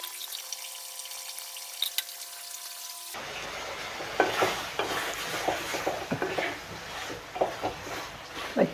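Beef fry is stirred in a pan, with scraping and clinking strokes over a low sizzle, coming in after a quieter opening stretch.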